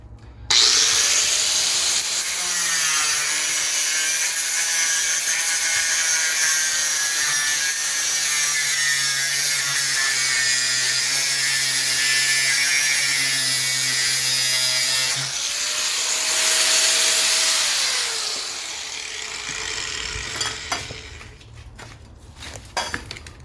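An angle grinder fitted with a safety cover cutting through material, a loud sustained high whine with steady grinding for about fifteen seconds, then a pitch shift as it winds down, ending with scattered clatter, no speech.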